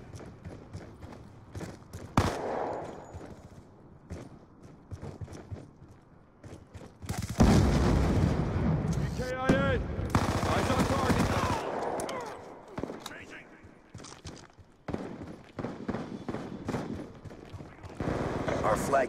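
Bursts of automatic and single gunfire ring out in a Call of Duty: Black Ops 2 Capture the Flag match on the Standoff map, loud crackling volleys with pauses between them, mixed with game voice announcements.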